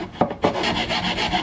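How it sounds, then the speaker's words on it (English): A rusty file rasps across a metal bracket during a BMW M52/S52 manifold swap, with two short scraping strokes followed by a steadier run of close, gritty rubbing. "I have a rusty file and we're going to make it work."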